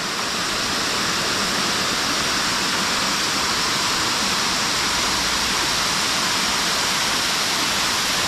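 Waterfall at the Cascades in the Blue Mountains, Australia, a loud, continuous, close rush of falling water with no voices.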